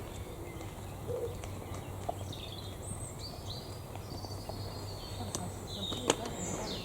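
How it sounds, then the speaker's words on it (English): Scattered bird chirps and short calls ring out at Peveril Point over a steady outdoor background hum, faint and intermittent. "Just enjoy the birds."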